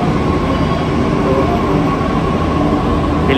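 Delhi Metro train at Karol Bagh station, a steady loud rumble and hum of the rolling metro carriages throughout, with no talk.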